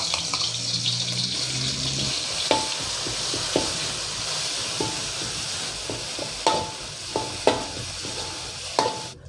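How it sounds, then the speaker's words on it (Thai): Nam ngiao curry paste for northern Thai khanom jeen nam ngiao stir-fried in oil, with a steady sizzle under sharp, irregular clicks and scrapes of a spatula against the pan, close and alone with no talk. "นำพริกแกงน้ำเงี้ยวครับ ลงไปผัดกับน้ำมัน ให้หอมก่อนนะครับ"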